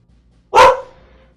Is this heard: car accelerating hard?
no